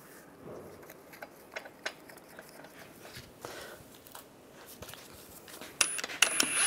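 A lug bolt is threaded by hand onto the wheel hub of a 1998-2010 Volkswagen Beetle, faint scattered metallic clicks and ratcheting taps, with a brighter scrape of metal near the end.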